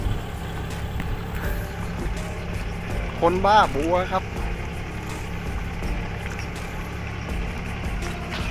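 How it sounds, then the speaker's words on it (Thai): A farm tractor hauling lotus plants into a garden rumbles with a low, steady engine drone, fairly faint, while someone talks over it. "มีความจำเป็นที่ต้องใช้รถไถครับบรรทุกบัวมา"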